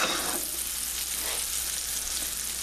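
Onions sautéing in a hot pan for a cod fillet Lyonnaise, giving a steady, close, even broadband sizzle that holds throughout with no talking.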